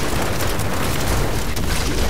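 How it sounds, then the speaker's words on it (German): Dense, continuous roar of explosions and booming blasts in the video game Diablo III: Reaper of Souls, loud and unbroken, with no pauses between the rumbling bursts. "Ich sehe hier nur noch Blitze und Explosionen"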